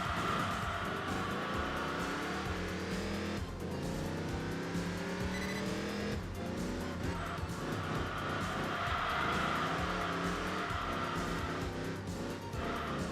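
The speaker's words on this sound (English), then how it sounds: "Just the sound of the V8." V8 race car engine in Enthusia Professional Racing, loud and close, revving up through the gears in repeated rising sweeps with brief drops between shifts and some tire squeal, no talking.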